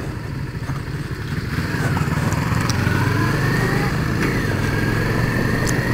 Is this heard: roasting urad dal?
no